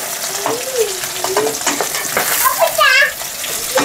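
Fish frying in hot oil in a pan, a loud continuous sizzle up close, with a voice talking over it and a brief high chirp near the end.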